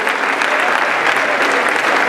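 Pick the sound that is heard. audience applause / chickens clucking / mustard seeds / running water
audience applause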